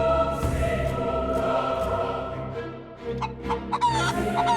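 Hens clucking at a poultry seller's stall, a steady run of close, busy clucks and squawks layered over one another with a few sharper calls near the end.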